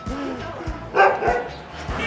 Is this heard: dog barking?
yes